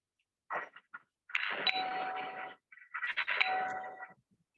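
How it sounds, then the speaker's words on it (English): Two bursts of an electric electromagnet doorbell, each a buzzing ring lasting about a second, preceded by a few short clicks, heard close and clear. "This is the doorbell sound."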